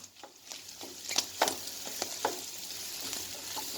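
Chopped onions sizzle in a pan with liver for a Gaziantep-style kavurma, frying steadily and fairly quietly, with a few sharp scrapes and stirring clinks breaking through the hiss.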